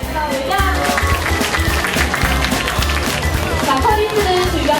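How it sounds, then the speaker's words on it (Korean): Crowd of adults and children applauding at an aquarium shark feeding show, a continuous patter of clapping heard under a narrator's voice and general crowd noise. "먹이주기 성공! 와, 박수갈채가 절로 나오지요."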